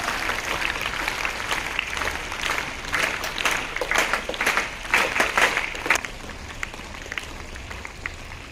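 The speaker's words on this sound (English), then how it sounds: "Children, it should be a very nice clap." Schoolchildren clap together at a morning assembly, a loud, crowded patter of many small hands that swells in bursts before stopping abruptly and giving way to a quieter room.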